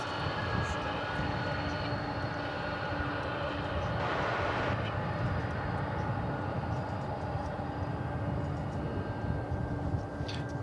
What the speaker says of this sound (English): the aircraft that both UPS and FedEx say that they will soon be putting out to pasture